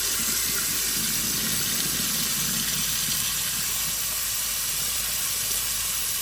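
Water runs steadily from a Moen Legend 7300 kitchen faucet in a constant, loud hissing stream that continues unbroken throughout.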